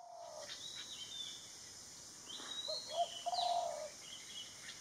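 A golden-fronted leafbird in a Thai garden gives a few faint, thin whistled calls and chirps at a distance, scattered over quiet background hiss.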